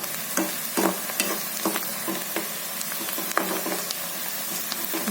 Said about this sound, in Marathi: हिरवी मिरची आता कांदा होत आला आता मी भाजी घाल घालते आता